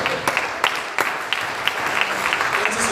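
Applause from a church congregation during a sermon, a continuous bed of clapping at moderate level with a few sharper individual claps standing out.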